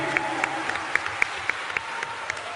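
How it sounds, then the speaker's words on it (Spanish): Audience applause for heroes invited to stand before a gathering: a steady wash of crowd clapping, with sharper individual claps standing out at fairly regular intervals throughout. "recibámoslos de pie con un aplauso a nuestros héroes"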